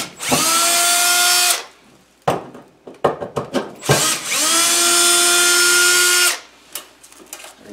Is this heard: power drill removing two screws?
yes